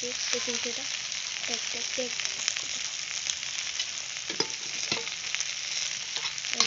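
Radish and potato pieces frying in a pan, a continuous bright sizzle throughout with soft stirring scrapes and a few clinks.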